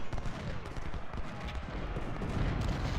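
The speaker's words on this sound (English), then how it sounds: "artillery shooting at those horsemen" Artillery fires on cavalry during a Battle of Gettysburg fight in Ultimate General: Civil War: a dense, continuous rumble of distant cannon and gunfire that rolls on steadily throughout.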